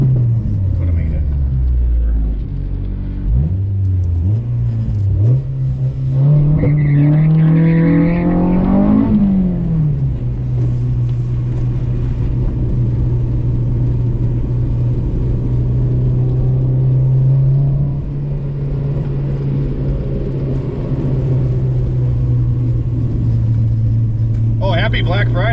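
A JDM GSR EK Honda Civic hatch cruises around town, its engine droning steadily with a rising rev near the start, under occasional in-car talk.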